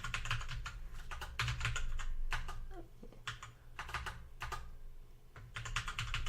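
Fast typing on a computer keyboard, bursts of close clicking keystrokes with a short pause midway, with no voices.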